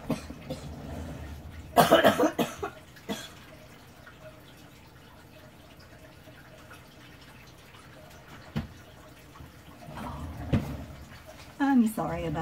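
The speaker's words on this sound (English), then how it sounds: "Yes, I've still got my cough." A woman with a lingering cough coughs several times in short loud bursts early on and again near the end, with quiet stretches and some talk between fits.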